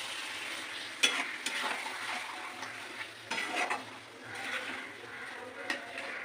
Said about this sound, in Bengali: ম্যারিনেট করা চিকেনটা আস্তে আস্তে আস্তে আস্তে ঢেলে দেবো। আস্তে আস্তে আস্তে আস্তে আমি কষিয়ে দেবো।